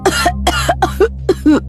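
Woman coughing loudly, five sharp close coughs in quick succession over a low background hum.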